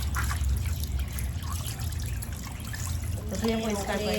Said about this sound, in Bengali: এখন খালি একদম ফাইনাল ধুয়ে নেওয়া হচ্ছে